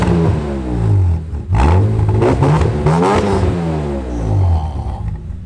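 A rebuilt BMW M3 engine blips and revs up and down loudly at close range, its rising and falling pitch sweeping through several quick throttle bursts over a steady idle.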